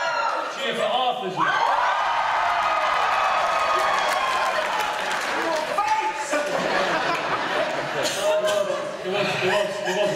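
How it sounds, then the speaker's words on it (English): A crowd at the 2012 Doctor Who Official Convention cheers, whoops and laughs loudly for a sustained stretch, the sound dense and continuous, with a voice rising briefly over the noise. "Cheer for Arthur."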